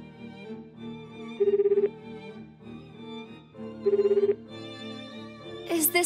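A phone ringing during a call in the game CRYSTAR, two short trilling bursts of ringing over a soft sustained musical backdrop, ending with a brighter chime.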